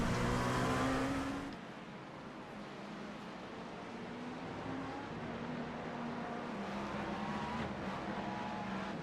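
Race cars in the iRacing sim, with faster LMDH prototypes overtaking, roar past at close range; a loud engine sweep fades into a steady, droning pack of engines and tire noise.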